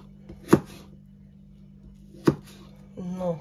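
Two sharp knife chops through a radish strike a cutting board, well spaced apart, followed by a brief murmur of a voice.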